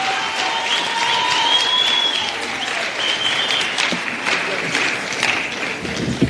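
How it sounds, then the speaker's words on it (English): Audience at an ANC meeting with artists breaks into loud, sustained applause, a dense crowd of hands clapping steadily throughout, with a faint tonal whistle drifting above it early on. "Let's give her another round of applause."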